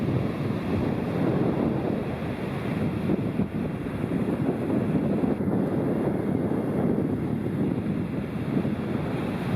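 Steady ocean surf rolls along an undeveloped Kiawah Island beach while wind buffets the microphone, a continuous dense roar with no breaks and no voices.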